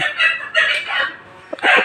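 A healthy rooster gives a few loud, close, harsh calls in quick bursts, separated by brief pauses.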